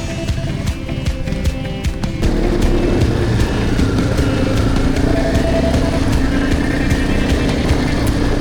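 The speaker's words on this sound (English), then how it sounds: "here comes Kev on his KTM. And Tony on the Fantic, and Neil on his CRF." Off-road motorcycles, a KTM, a Fantic and a Honda CRF, ride past on a Peak District trail, their engines droning loud and close in a sustained roar with the pitch shifting as each bike goes by.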